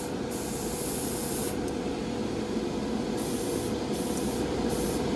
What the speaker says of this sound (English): when you pull the trigger back further, you can see it atomizes the cleaner in there